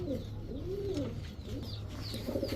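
Several pigeons at a seller's stall give repeated soft, rolling coos, close and steady over a low background hum, with no talking.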